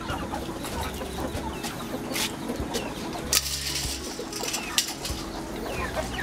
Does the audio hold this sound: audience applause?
no